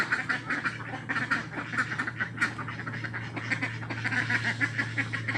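A flock of ducks quacks continuously in overlapping calls, fairly close, over a steady low hum.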